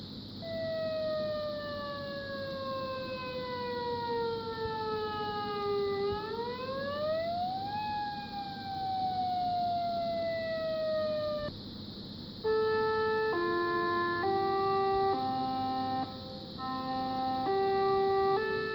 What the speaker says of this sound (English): Here's one of my videos I took of one of the tsunami sirens being tested on my coast.